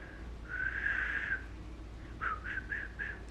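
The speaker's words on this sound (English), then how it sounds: "has been learning how to whistle because it's the only way to get his attention" A person whistles shrilly to get someone's attention: one long sustained high note, then a short pause and four quick rising chirps, fairly soft and close in a quiet room.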